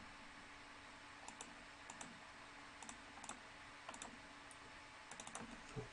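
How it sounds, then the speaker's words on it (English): Quiet keyboard typing nearby, irregular bursts of light clicks separated by short pauses, no voices. "Am I typing this wrong or not?"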